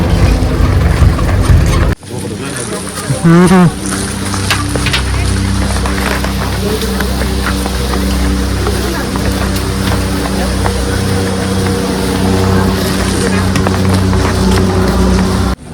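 A steady, loud tractor engine drone runs throughout with a rumbling low end, close by, after a brief burst of other noise at the start.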